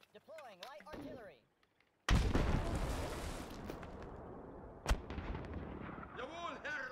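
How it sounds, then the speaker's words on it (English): Light artillery firing in an Ardenne campaign war video game: one heavy boom erupts and rumbles on for seconds, followed by a sharper blast, with game voices briefly heard before and after. "Deploying light artillery."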